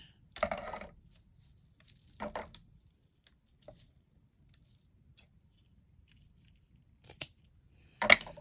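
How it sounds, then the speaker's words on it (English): Fabric scissors cut ribbon in a few short, quiet snips spread across a near-silent room, with no talking. "I'm going to cut this off with my fabric scissors because this is ribbon."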